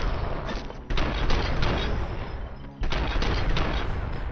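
Rapid bursts of gunfire from Robocop's weapon in the Robocop video game, dense and continuous with two brief gaps, loud and close.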